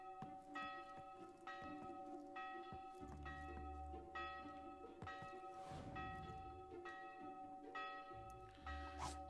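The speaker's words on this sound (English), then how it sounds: "Hopefully that's not the guard bells and it's just the morning bells. Oh, it's the guard bells." Guard alarm bells ringing in the Fable II video game, a steady series of loud, clanging bell strikes repeating throughout, with game ambience underneath.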